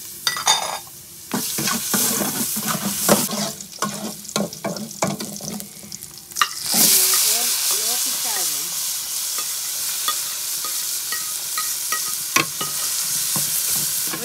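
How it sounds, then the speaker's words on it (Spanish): Achiote and crushed garlic frying in a pot for a refrito for chicken stew cooked over a wood fire, starting with stirring and scraping, then a loud sustained sizzle with bursts of crackling close by. "agregar el achote para poder hacer el refrito. El ajito machacado"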